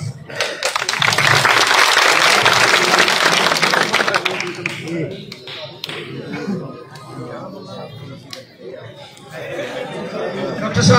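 A crowd at an outdoor political rally in a village claps in a loud burst of applause that slowly fades into scattered claps, with chatter and voices mixed throughout.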